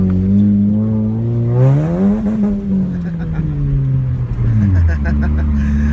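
A 2006 Chevy Cobalt SS engine revs up and down loudly with a rising and falling whine, gritty tire-spinning noise underneath, while someone talks over it.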